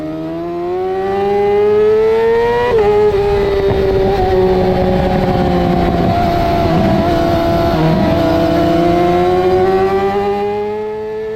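Yamaha R6 sport bikes scream along a race track straight in a close club race, one engine loud and near with a high sustained whine, a quick gear shift, then the pitch dipping and climbing again as others roar alongside.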